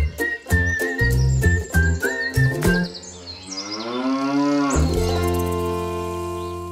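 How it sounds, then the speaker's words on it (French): A Normande cow on a farm lets out one long, loud, close moo with a rising, wavering pitch, preceded by bright jingling and tinkling, with no voices. "Dis François, raconte-nous l'histoire de la vache normande."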